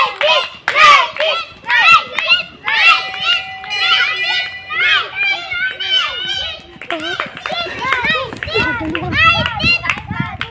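Young children dash in a race at a kids' class in Sainagar, Bhadgaon, with rapid patter of feet among excited voices, shouting adults and bursts of clapping.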